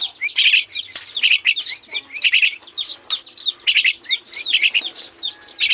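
Hungry maya sparrow nestlings, three of them, call nonstop up close: loud, shrill chirps in quick pulsing clusters, steady and overlapping for several seconds with no voices.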